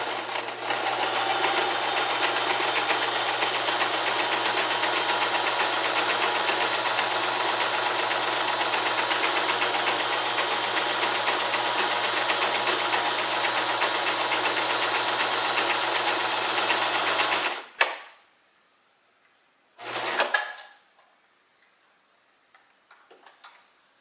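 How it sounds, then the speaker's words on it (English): A sewing machine stitches fabric for a handmade heating pad, a steady fast mechanical whir and ticking running for about eighteen seconds, then stopping, followed by two brief short bursts. "Now that we've got one long side sewn, I'm going to sew the bottom"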